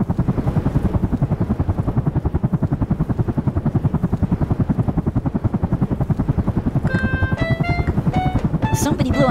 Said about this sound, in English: Police copter, please help!